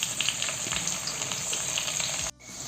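Capsicum fries with lightly sautéed onions in a pan for chilli chicken, a loud, steady close-up sizzle that cuts off abruptly just before the end and then resumes more quietly.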